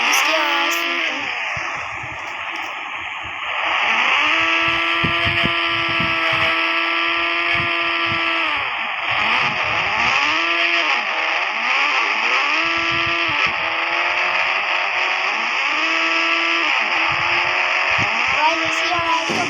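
A motorbike engine revs in repeated rising and falling bursts, loud and close, with a buzzy harmonic drone between throttle blips over about twenty seconds.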